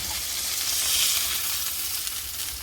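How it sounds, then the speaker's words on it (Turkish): Caramelized onions sizzling in a pan while making a homemade burger, a steady, bright frying hiss that holds close and fairly loud throughout, with no talking. "Karamelize soğan."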